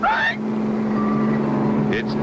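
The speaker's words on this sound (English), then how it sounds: "It's an armored car. It's headed right for the bank." An armored car drives along in an animated cartoon, its engine a steady low drone, with short voiced exclamations at the start and near the end.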